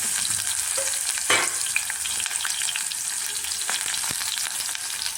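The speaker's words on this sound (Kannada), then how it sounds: "ಇದೆಲ್ಲ ಸ್ವಲ್ಪ ಫ್ರೈ ಆಗಲಿ." Onion, garlic, a chili and curry leaves fry in hot oil, giving a steady close sizzle with a few stirring scrapes and crackles throughout, no voices.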